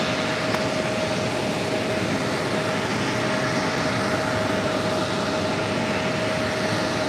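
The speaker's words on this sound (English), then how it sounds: "A330neo taking off on 4 left" An Airbus A330neo jet takes off from runway 4 left at JFK, its engines a broad, steady roar heard from a distance with a constant tonal whine running through it and no voices.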